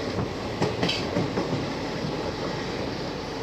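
The Tirunelveli Nagercoil Passenger train rolls past close by, wheels beating a steady clickety-clack over rail joints with a continuous rumble of carriages.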